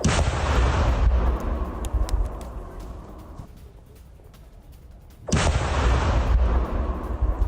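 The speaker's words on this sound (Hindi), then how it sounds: "ऑयल टैंकर ट्रेन में किया गया विस्फोट।" Explosions set under oil tanker train cars roar as sustained, heavy blasts, a long loud rumbling burst fading to a quieter lull before a second powerful eruption kicks in.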